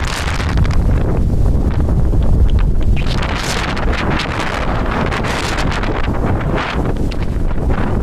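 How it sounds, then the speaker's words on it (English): Strong wind roars steadily into the microphone after a typhoon on a wet evening in Nagoya, a loud, continuous rumbling buffet with gusty surges throughout. "Oh my god, it's so windy."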